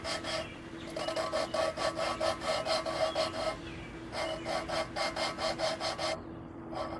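Engine valves on a Chrysler 4.7 cylinder head are lapped by hand, producing a rhythmic gritty rasping of back-and-forth strokes, close and steady in quick repeated bursts with a short pause midway.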